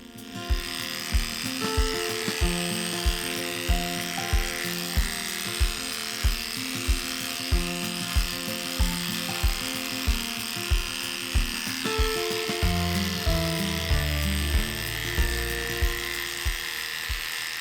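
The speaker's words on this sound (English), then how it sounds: "Second shaving for a nice and smooth haircut." Electric clippers buzz steadily through a dog's matted fur, the motor humming close and continuous with regular pulsing strokes.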